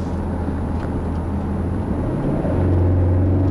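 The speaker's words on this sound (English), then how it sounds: "I don't think I felt a car that accelerated so quickly." 2011 BMW X6 xDrive50i accelerating hard, a deep continuous engine roar that swells louder near the end, heard from inside without talk.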